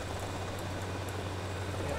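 A helicopter in the video game GTA Vice City hums in a steady low drone with a faint rotor throb. It sits at moderate distance and stays constant throughout, with no talk.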